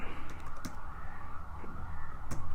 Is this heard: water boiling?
no